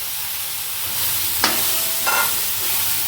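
Okra and tomatoes sauté in a pan, a steady close sizzle that grows slightly louder after the first second, broken by two brief scraping stirs.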